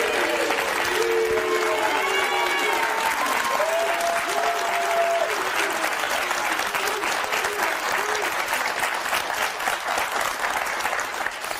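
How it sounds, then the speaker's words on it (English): A studio audience of about 200 people applauds loudly and steadily. Early on, bright whoops and cheering voices rise over the clapping, then a thick, even wall of hand claps continues to the end. "You got 200 people applauding you right now."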